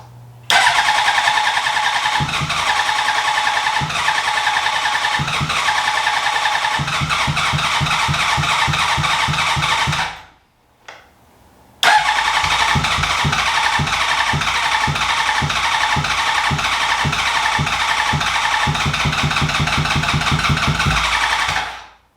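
A 2003 Honda CBR600RR motorcycle that has sat for 18 years fires up and runs with a loud, steady, rapid engine note, cuts out briefly, then restarts and keeps running close up.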